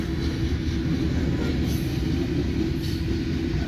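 Heavy freight train, a coal drag with a manifest behind, rolls past with a loud, steady low rumble of wheels and cars, continuous and close throughout.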